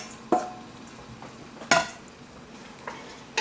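Vegetables for minestrone soup frying in olive oil in a pot, heard as soft background sizzle broken by a few sharp clatters of a spoon stirring against the pot, spaced about a second apart.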